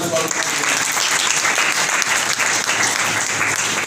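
A church congregation on Palm Sunday gives a round of applause, loud, dense clapping filling the room without a pause, with voices mixed faintly underneath.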